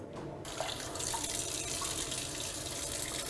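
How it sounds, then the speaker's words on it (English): Uncooked rice rinsed under a kitchen tap, with water rushing in as a steady, close hiss after a brief quiet start and running on without pause, with no speech. "8 ounces of uncooked rice. And what I do first is come over and I rinse it off."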